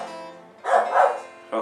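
A dog barks a couple of times indoors during a guitar lesson, short loud yelps rising over a lingering strummed guitar chord.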